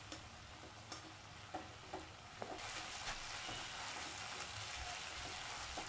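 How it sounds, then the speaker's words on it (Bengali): Onion with ginger and garlic paste frying in a pan, a steady close sizzle with occasional stirring clicks and light spattering, growing denser and louder partway through, no voices. "পেঁয়াজের সাথে আদা রসুনটাকেও একটু ভাজা ভাজা"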